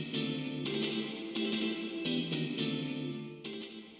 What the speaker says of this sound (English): I want to add a plate reverb